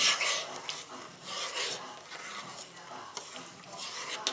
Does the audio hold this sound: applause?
no